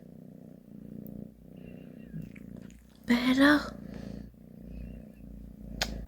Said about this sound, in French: Écoutez comme ça ronronne.